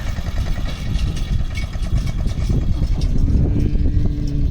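A tractor engine rumbles steadily at a borewell drilling site, a loud low chugging idle with clattering texture that grows slightly fuller toward the end as the machine draws near.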